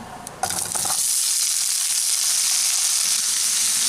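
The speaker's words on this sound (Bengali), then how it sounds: "এখন এই কুমড়োটাকে আমি তিন চার মিনিট একটু ভেজে নেব" Pumpkin pieces hit hot oil with a tempering of dried chilies and black mustard seeds, with salt and turmeric added. A sharp splash opens a loud, steady, close sizzle that continues to the end.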